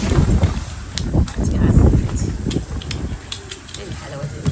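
Gusty wind buffets the microphone in a steady low roar outdoors near a clay bread oven, with muffled voices talking underneath.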